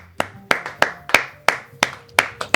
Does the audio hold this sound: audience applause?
yes